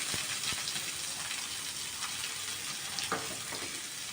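Thinly sliced onions frying in a pan for jeera rice, a continuous close sizzle with occasional soft stirring clicks, steady and alone.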